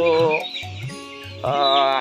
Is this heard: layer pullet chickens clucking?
yes